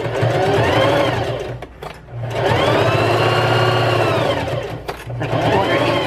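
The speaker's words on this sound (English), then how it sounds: "So now I'm gonna sew this part up." A sewing machine runs close and loud, stitching up a pocket on a fabric panel in two long bursts with a short pause between them, and no one speaks.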